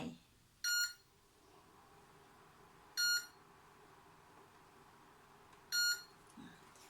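Three short electronic beeps from an electric stove being switched on, spaced a few seconds apart over a low steady hum, with a soft click near the end.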